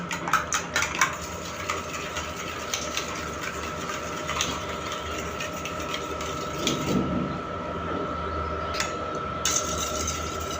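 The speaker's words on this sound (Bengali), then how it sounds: "শুধু লবণ দিয়ে ডিমটাকে ভালোভাবে ফেটিয়ে নিচ্ছি" Eggs being whisked with salt in a bowl give a steady, rapid metallic clatter of utensil against the sides, continuous and close throughout with a few sharper taps at the start.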